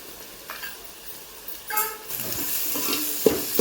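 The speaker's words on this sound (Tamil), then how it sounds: "நல்லா பச்சை வாசனை போகிற அளவுக்கு இஞ்சி பூண்டு பேஸ்ட் நல்லா வதக்கணும்" Ginger garlic paste sautés in a pan for mutton gravy, a soft low sizzle with a few scraping stirs that grow louder toward the end.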